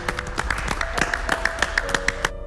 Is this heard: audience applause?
yes